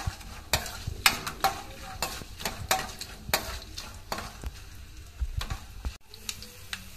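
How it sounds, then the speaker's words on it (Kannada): Raw peanuts frying in a pan, stirred to crisp them: a faint background sizzle broken by repeated sharp scrapes and clicks of a spoon against the pan at an uneven rhythm. "ಈಗ ಶೇಂಗಾ ಸ್ವಲ್ಪ ಫ್ರೈ ಮಾಡುವ, ಹಸಿ ಇತ್ತಲ್ಲ ಅದು ಸ್ವಲ್ಪ ಕ್ರಿಸ್ಪಿ ಆಗಬೇಕು."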